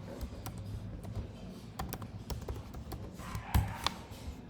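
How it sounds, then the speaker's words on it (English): Typing on a computer keyboard gives irregular bursts of close, crisp key clicks against a low background hum, ending in a few louder taps, with no voices. "let me type here."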